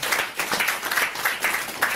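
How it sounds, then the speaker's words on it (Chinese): An audience at a business presentation claps together in a brief burst of applause, a dense, even patter of many hands with rhythmic swells. "给自己一个先机的掌声，好不好"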